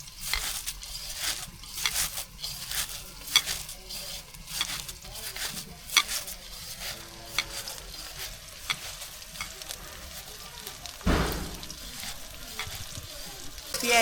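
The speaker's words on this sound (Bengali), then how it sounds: "পেঁয়াজ রসুন ভাজা হয়ে গেছে" Onion and garlic fry and are stirred in a pan for a rural Bengali vegetable and dal dish, a steady close sizzle broken by scraping stirs and a louder burst near the end.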